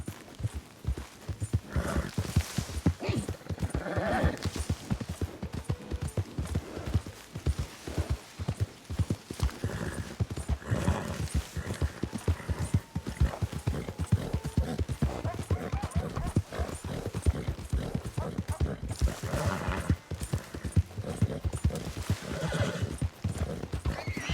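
A horse gallops in the Red Dead Redemption 2 video game, its hooves clip-clopping in a fast steady rhythm for the whole stretch, with occasional neighs and snorts over the running hoofbeats, close and loud, with no talk.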